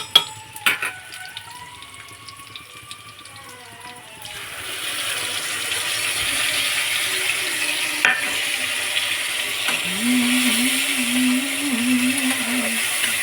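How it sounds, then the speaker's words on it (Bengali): Spices and boiled potatoes for a katla fish dish are stirred in a pan: a few clanks and scrapes at first, then a steady close frying hiss with a droning hum running underneath. "আলু কিন্তু সিদ্ধ করা, আমি নেড়ে চেড়ে মশলাটাকে দিয়ে দেবো"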